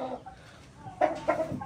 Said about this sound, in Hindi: लो जी हमने बड़ा मुर्गा दिखाया आपसे